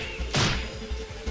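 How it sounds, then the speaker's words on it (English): Wrench smacking a window pane in the Higurashi game, a single sharp dull impact with a short crash-like burst, then quieter low background thumps continuing under it. "I struck at the window with my wrench multiple times."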